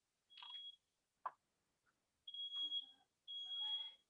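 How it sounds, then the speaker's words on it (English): A home smoke alarm in a bedroom gives three loud, piercing electronic beeps, spaced about a second apart, with a brief knock between the first two. "setting off the smoke alarm"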